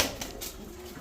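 Racing pigeons coo softly and close by, a brief low murmur with faint rustling around it.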